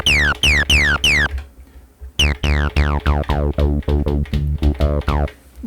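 Elektron Analog Four plain saw bass through the Mark II overdrive plays a rhythmic sequence of punchy, gritty notes with a sweeping bright filter, loud and alone with a brief gap partway.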